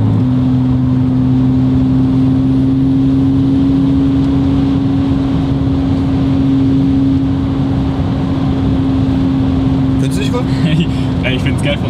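Loud, constant engine drone from inside a moving Audi RS4 at about 110, a steady low hum with road noise, continuing without change.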